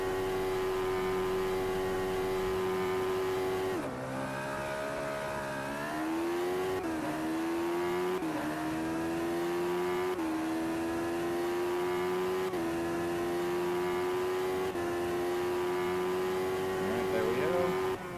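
A Hayabusa motorcycle engine swapped into a Mazda Miata screams at high revs in Assetto Corsa, climbing steadily through repeated gear shifts that briefly drop the pitch. A person talks over the engine.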